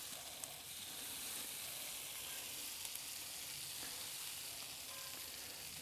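Basting sauce sizzling on grilled vegetables, a steady, close crackling hiss with small pops, continuous and unbroken for several seconds without any talk.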